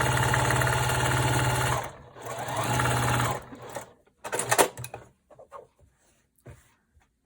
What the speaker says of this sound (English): sew down your 1/4 inch.